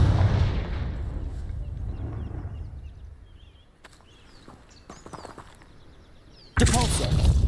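A Confringo spell blast goes off in Hogwarts Legacy, giving a loud, broad explosive burst near the end, after quieter rumbling and scattered crackles.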